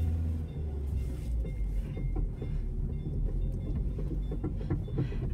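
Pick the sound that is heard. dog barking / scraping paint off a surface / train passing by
train passing by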